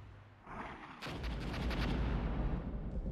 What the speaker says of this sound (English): Keep with that artillery.